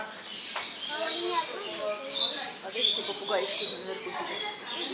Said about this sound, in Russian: Такие попугаи.